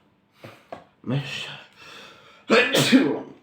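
A person sneezes once, loud and close, after a few short breaths and sniffs, with noisy breathy sounds before it and no speech.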